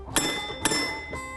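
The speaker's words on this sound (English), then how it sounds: "And so the bell system would sound like this." A tram conductor's bell rings twice in succession as a start signal, each a bright metallic ding that rings on, with a third strike beginning at the end.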